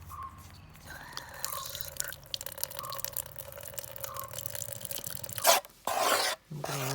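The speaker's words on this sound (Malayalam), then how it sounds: "ഇതിനകത്തേക്ക് കുറച്ച് വെള്ളം ഒഴിക്കാം" Water is poured into cement mix, with small drips and trickles throughout and a brief louder splashing pour near the end. There is no talking.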